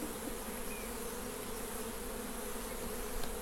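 Honeybees shaken out of a nucleus hive fill the air with a steady, dense buzzing hum of many insects, close and continuous throughout, with no voices.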